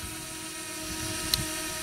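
A DJI Mavic Mini drone hovers close by, giving off a thin, steady, high-pitched whine with a faint tonal buzz, fairly quiet and unbroken, plus a brief click near the end.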